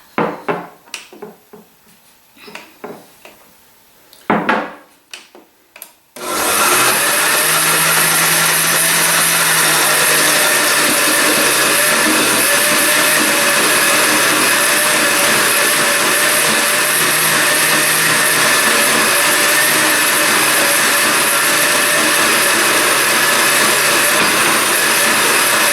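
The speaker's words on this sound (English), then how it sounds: "I'm going to turn the blender back on and then just drizzle the oil in here until it's all mixed together" A blender runs steadily on low while oil is drizzled in to mix a pesto, a loud continuous whir that starts abruptly after a few seconds of quiet clatter and holds for about twenty seconds.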